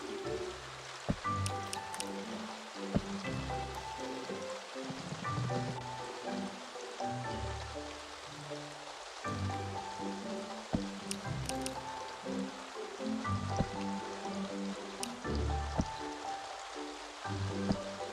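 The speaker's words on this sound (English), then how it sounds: "I like the sound of the rain in this game." Rain in the farming game Staxel falls as a steady soft patter with scattered sharper drips, a continuous wash mixed with low game tones and occasional clicks, with no talking.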